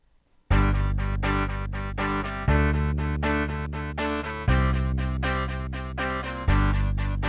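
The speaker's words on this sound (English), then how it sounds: "Now let's listen to all instruments we have so far" A rock band arrangement with bass, rhythm guitar and drums but no lead guitar, playing a steady pattern in repeating bars, dense and loud with no voices over it.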